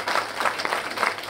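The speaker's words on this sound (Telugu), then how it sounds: "గట్టిగా ఒకసారి చప్పట్లతో మనం" Applause for young Kuchipudi dancer Kiara Reddy at a world record event, a steady wash of clapping from a crowd, moderately loud and continuous with no voices over it.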